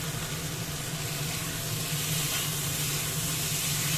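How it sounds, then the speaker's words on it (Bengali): Potatoes fry in a pan with chili powder, Kashmiri chili powder, and ground coriander and cumin, giving an even, continuous sizzle and hiss that stays close and steady the whole time, with no talking. "এবার আলুর সাথে পুরো মশলাটা ভালো করে কষিয়ে নিতে হবে।"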